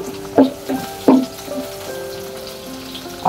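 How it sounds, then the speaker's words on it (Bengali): Leafy greens frying with two dried chilies in a home kitchen in Bangladesh, a soft steady sizzle broken by a few sharp clattering stirs near the start. "আমি শাক ভাজি করছি, আর দুটো শুকনো মরিচ দিয়ে দিলাম"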